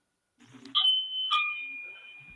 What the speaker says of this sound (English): That doorbell's pretty loud.